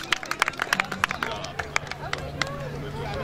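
Scattered clapping from a crowd at a 2013 community event in Haiti, uneven hand claps rising over a murmur of voices, with someone speaking throughout.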